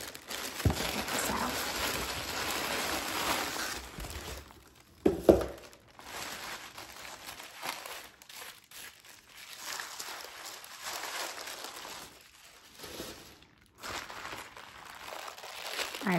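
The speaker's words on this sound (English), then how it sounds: "just gonna rip the packaging" Plastic packaging around a vegan leather pencil case crinkles and rips open at close range, a steady rustling, crackling texture with a sharp tearing burst midway and quieter gaps between handling.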